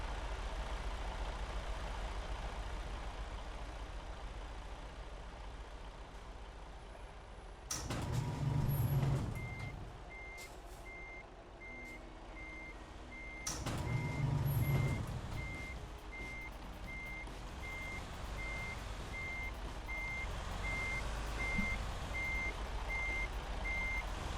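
A truck reverses to hook up a trailer in American Truck Simulator, with a steady repeating reversing beep over an idling diesel engine and two loud bursts of air-brake hiss, close and continuous.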